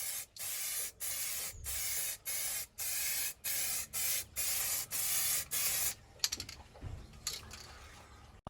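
A spray can applies a fourth coat of paint to a jerry water can in about ten short, even bursts with brief gaps between them, followed by light handling clatter.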